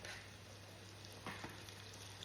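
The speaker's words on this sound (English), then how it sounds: "Give it a lekker stir." Chopped tomatoes are stirred in a hot pot, giving a faint, steady sizzle with a couple of soft scraping knocks from the spoon.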